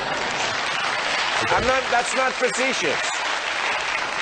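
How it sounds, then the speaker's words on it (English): Studio audience on a live television debate breaks into applause that swells and fades, with someone speaking loudly over it and harmonic voices cutting through the clapping. "Your audience, which will clap apparently anything, is frivolous."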